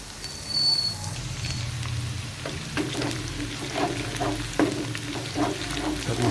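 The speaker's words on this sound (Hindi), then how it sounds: "इन मसालों को अच्छी तरह भून लें" Whole spices and raw turmeric fry in a pot, giving a steady low sizzle under occasional stirring clinks and scrapes, with faint background noise.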